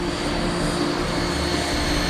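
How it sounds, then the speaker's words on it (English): An old Cold War-era jet engine runs up as RPM climbs, a loud, steady roar with an even whine layered over a low drone, heard alone at close range without voices. "And the noise of the engine's rising."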